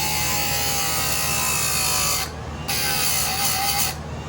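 A chainsaw chain sharpener grinds a chain with a continuous, bright, high-pitched whine. The sound dips briefly twice as the grinding eases off.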